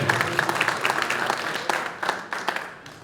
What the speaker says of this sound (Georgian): აპლოდისმენტებით გავაცილოთ მებრძოლები.